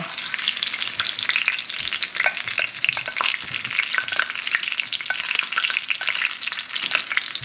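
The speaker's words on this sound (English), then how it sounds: "I'm gonna baste that with some of that juice." Salmon fillet being basted with sizzling pan juices, a dense, steady crackling fry with fast spitting pops throughout, loud and close, no voices.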